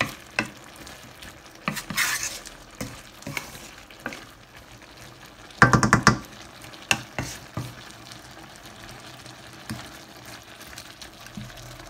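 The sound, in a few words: stir-frying shrimp with holy basil leaves in a pan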